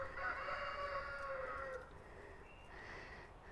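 A rooster crows in the distance, a drawn-out call followed by a shorter, fainter one against a quiet farmyard background.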